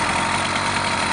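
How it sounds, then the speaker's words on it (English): A motorised push bike engine idles steadily and loudly close by, a continuous rough mechanical drone with no change in pace and no voices. "So the engine is running at the moment."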